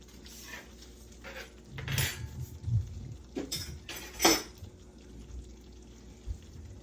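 Dishes and cutlery clink while a chicken piccata dinner is plated, with a handful of sharp, separate clatters and scrapes over a quiet kitchen background.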